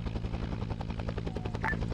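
A helicopter in the military video game Arma 3, its steady rotor chop thumping low and rhythmic beneath bursts of distant gunfire, with no talk over it.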